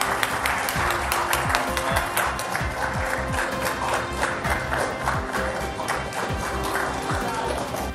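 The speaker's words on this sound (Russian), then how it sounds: "Бурные продолжительные аплодисменты." Prolonged, vigorous applause from an audience at an agreement signing between Tatarstan and the Russian Academy of Sciences, dense continuous clapping with a few distinct sharp claps standing out.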